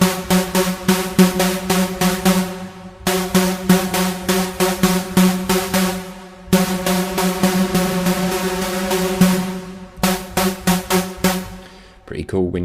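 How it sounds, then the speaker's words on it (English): Big room EDM synth patch playing a simple, punchy chord riff in repeated rhythmic stabs, loud and sustained with short gaps between phrases and a brief tail at the end. "This time we are doing a big room kind of EDM sound"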